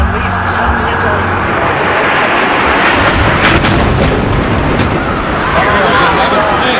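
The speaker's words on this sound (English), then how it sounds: "Another plane just flew into... The explosion is incredible!" A plane crashes into the World Trade Center, and a massive, loud explosion follows as a dense, continuous roar and rumble. A voice talks over the chaotic blast.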